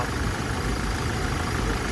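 A 2022 Toyota Hilux Revo double-cab 2.4 diesel with manual gearbox idles steadily, a continuous, even engine rumble with light clatter heard up close and alone.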